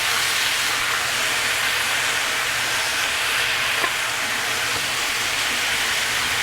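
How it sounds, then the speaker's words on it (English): Bone-in chicken pieces browning in a pot, giving a steady, even sizzle and hiss that runs without a break from start to finish, with no talking. "So while my chicken is browning"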